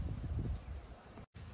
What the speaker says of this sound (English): we've got a lot of activity on the entrance, bees coming and going